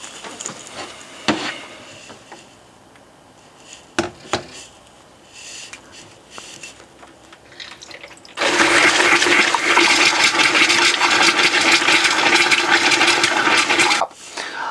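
Water drains from a motorhome tap fed by an onboard tank and compressor into a glass jug. A few scattered knocks and clicks come first, then a loud, steady gushing rush runs for several seconds and stops abruptly.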